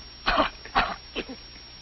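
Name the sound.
cough and throat clearing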